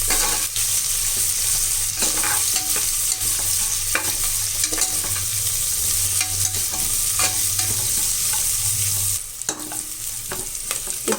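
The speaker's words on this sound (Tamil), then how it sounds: "இப்போ இந்த வெங்காயம் நல்லா வதங்கிடுச்சு." Onions and garlic sauté in a pot for a one-pot vatha kulambu rice dish, with a steady, loud sizzle and repeated scraping stirs throughout, the frying easing slightly near the end.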